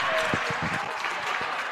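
A crowd at a Brooklyn College women's volleyball match against Lehman College claps steadily and dense, with faint scattered shouts and no clear speech.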